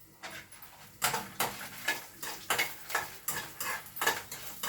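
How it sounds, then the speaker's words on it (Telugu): Cumin and fenugreek seeds fry with curry leaves in a pan, a soft bed of sizzle broken by regular scraping stir strokes, close and fairly quiet. "అన్నిటినీ బాగా వేగనివ్వండి"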